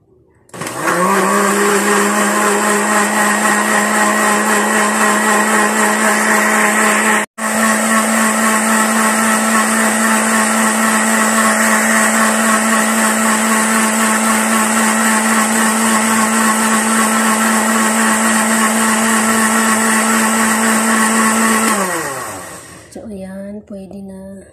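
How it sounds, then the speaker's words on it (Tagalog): A blender whirs steadily at high speed for over twenty seconds, blending moringa for tea, loud and close, with one brief cut-out before winding down at the end. "I-blender na natin."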